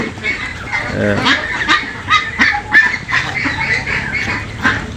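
A young farm duck, sickly and weak, gives repeated honking quacks in short irregular bursts, fairly close and clear over a quiet background.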